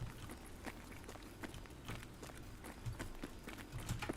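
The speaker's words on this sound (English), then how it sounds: "Pretty sure I heard footsteps to the left" Running footsteps in a video game patter quickly and steadily at moderate distance, soft against a low hum of game background noise.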